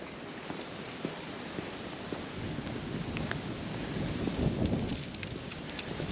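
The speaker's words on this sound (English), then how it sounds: "That wind is blowing." Chilly January wind gusting through a North Carolina mountain campground, a broad, steady rushing roar with mic buffeting that swells slightly toward the end, no voices.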